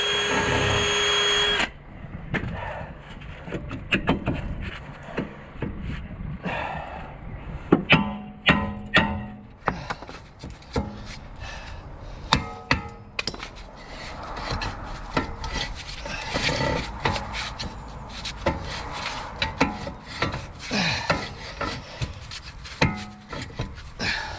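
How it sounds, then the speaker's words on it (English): A power drill whirs in repeated bursts cleaning a brake disc on a 2014 BMW F20 116d, revving up and down with grinding, scraping contact noise, loud and close throughout. "Let's have a clean all this off with the drill to make life a bit easier."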